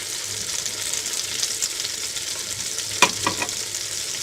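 Crushed almonds, pistachios and coconut frying in melted butter in a kadai give a soft, steady hiss, with a brief clatter of a stirring spoon near the end.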